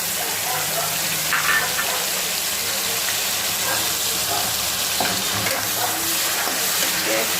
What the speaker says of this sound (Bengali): তেলে পেঁয়াজ কুচি ছেড়ে দিব।